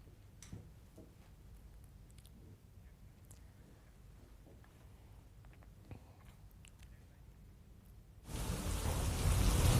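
Monsoon rain in Gujarat begins as a faint, quiet background and then bursts into a loud, dense hiss of downpour near the end.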